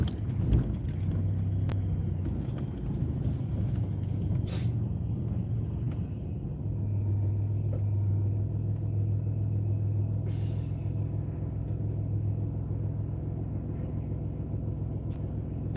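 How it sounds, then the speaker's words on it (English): A cold car engine idles steadily at about 900 RPM, a continuous low rumble holding even throughout with no revving and no talk. "The motor is idling about 900 RPMs."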